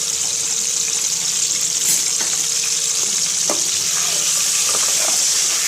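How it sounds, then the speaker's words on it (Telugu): Eggs frying in a pan with a little salt, a steady close sizzle and crackle throughout with occasional sharp pops and faint stirring scrapes. "ఎగ్స్ వేసుకొని మంచిగా వేయించుకోవాలండి."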